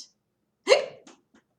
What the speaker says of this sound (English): Oh, Jonah has hiccups.